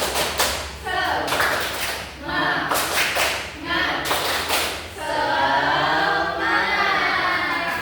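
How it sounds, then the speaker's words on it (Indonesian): A school class performs a rhythmic spirit clap, with patterned bursts of group clapping and slaps followed by the students shouting and chanting together loudly. "Tepuk semangat."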